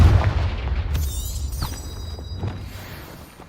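A Confringo fire spell explodes in the video game Hogwarts Legacy, a deep rumbling blast with a few sharper bursts layered over it, loud at first and then slowly fading.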